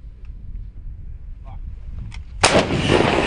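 An M119 or M777 howitzer fires a single live round after a quiet stretch of low rumble, giving one sudden loud, broadband blast that rolls on into a sustained roar.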